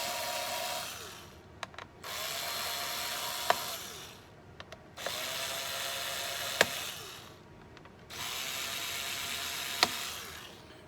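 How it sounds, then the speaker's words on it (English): Screws on the heatsink of a Dell Latitude 5420 Rugged laptop being loosened with a screwdriver: three stretches of close, steady scratchy turning noise separated by short pauses, with a sharp tick in each. "these 4 here will stay connected to your heatsink, so just loosen those"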